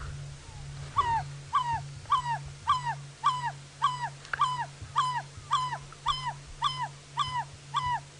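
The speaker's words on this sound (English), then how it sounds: "Now that's the sound of a barred owlet." An African barred owlet calls in a steady, evenly spaced series of whistled notes, about a dozen in a row, over a low constant hum.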